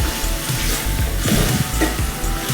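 Okra and lentil tamarind curry fries in oil with a loud, close, steady sizzle and soft bubbling pops throughout, with no talk over it.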